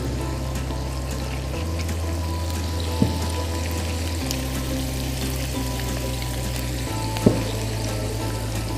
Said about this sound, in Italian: Un filo d'acqua per completare la cottura delle acciughe.